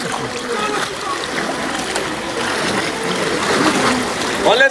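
Flood water splashing and rushing during a flood in Accra, Ghana, a continuous loud churning wash with bursts of splatter. Voices can be heard faintly under the water.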